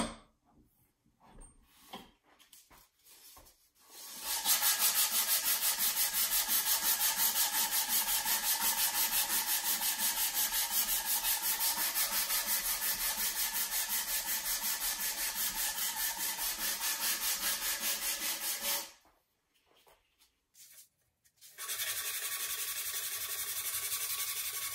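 Sandpaper, about 100 grit, rubs steadily back and forth over a wooden sword blade. A loud, continuous scratchy grind runs for about fifteen seconds with a brief pause, then resumes. Quieter handling noises come before it.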